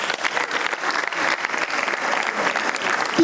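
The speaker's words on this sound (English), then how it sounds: "Please keep clapping till she gets on stage." Sustained applause from an audience at a language train-the-trainers closing ceremony at the University of Abuja, with dense steady clapping throughout that swells slightly at the end.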